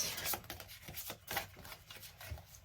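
Cards being shuffled in quick riffling bursts, several crisp flutters and taps close up, with no talking.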